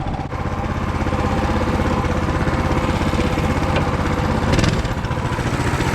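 A Coleman 196cc mini bike engine running steadily nearby, a loud continuous putter with a brief rev near the end, no talking.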